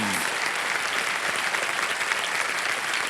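A large studio audience on the quiz show Kaun Banega Crorepati Season 15 bursts into steady, full applause for the contestants' families, a dense, continuous wash of clapping that holds at an even level for the whole stretch.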